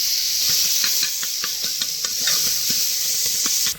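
Mutton masala with turmeric and chopped tomato fries in a pot at a forest campsite, giving a constant loud sizzle broken by quick, repeated stirring scrapes, with no talking.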